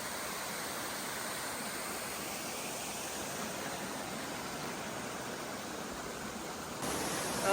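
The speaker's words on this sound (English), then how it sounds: "The trail crosses right where this waterfall is." A waterfall in the White Mountains of New Hampshire, at the spot where a hiking trail crosses it, makes a steady broadband rush of falling water, close and constant, with no talk.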